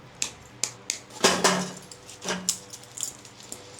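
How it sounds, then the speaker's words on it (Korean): Scissors are drawn from an electrician's work tool belt, giving a run of metallic clinks, jangles and taps spread over a few seconds, with one louder rattling burst in the middle and no talking. "가위 바로 꺼내요 저는."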